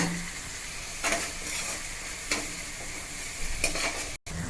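Sliced onions sauté in a pan for chicken gravy, giving a continuous close sizzle with periodic scraping bursts of stirring at roughly one-second intervals; no voices.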